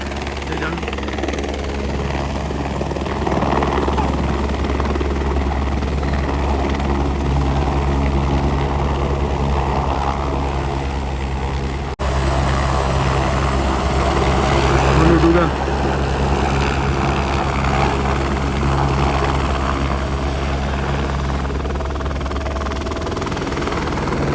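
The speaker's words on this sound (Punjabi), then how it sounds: "ਆ ਗਿਆ ਹੈਲੀਕਾਪਟਰ ਬਈ" A loud, steady helicopter drone with a constant low thrum fills the scene throughout, nearby and continuous, at Hemkund Sahib in bad weather, with faint voices mixed underneath.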